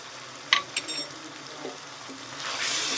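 Cumin, coriander and Kashmiri chilli powders sauté in a pan for a Bengali crab curry: a few light clinks of a utensil, then a quiet sizzle that swells toward the end.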